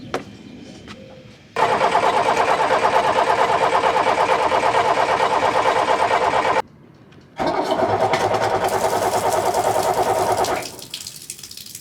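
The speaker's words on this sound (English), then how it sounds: "Now there's smoke coming out when I'm cranking the engine" A 47-year-old sailboat engine cranks steadily in two long bursts of about five and three seconds, loud and close, with a rhythmic starter churn that never catches, separated by a short pause.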